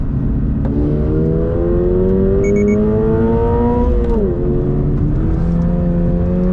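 A 2024 Subaru BRZ tS engine revs steadily upward past 7,000 RPM to a high, strained pitch, dips briefly as it shifts, then climbs again, loud and close throughout.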